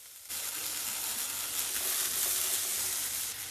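Hot oil sizzling in a pan as vegetables fry for a gourd and green gram palya, a steady, loud, close hiss that starts abruptly and holds evenly, with no talk.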